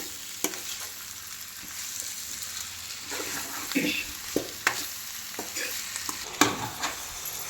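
Chicken being stirred and fried with turmeric, ginger garlic paste and masala, a steady sizzle broken by sharp scraping spoon strokes and clinks against the pan, close and moderately loud.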